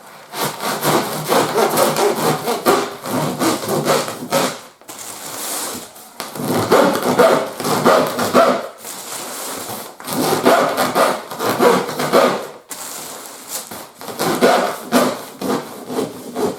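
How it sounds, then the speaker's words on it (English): Ordinary hand saw cutting through an insulation roll wrapped in plastic, heard as loud, close rhythmic back-and-forth strokes in several bursts separated by short pauses. "Just using an ordinary saw."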